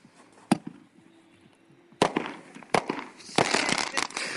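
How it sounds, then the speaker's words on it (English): Fireworks and bottle rockets set off by kids crack and pop in sharp, scattered bursts at a distance, isolated bangs at first, then a denser run of crackling reports, with a faint hiss between. "Rather than shooting off your own fireworks like the kids in this video"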